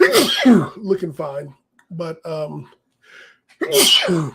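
A loud sneeze bursts out amid conversation during a pro wrestling podcast discussing Monday Night Raw, with talk before and after it.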